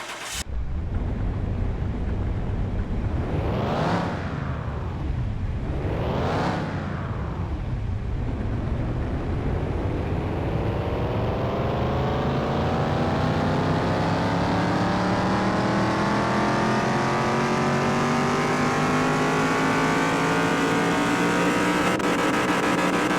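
A beat-up old car engine in Car Mechanic Simulator 2021 is revved on a dyno: two quick rising-and-falling revs, then one long, loud, steady climb in pitch that holds to the end, with no talking.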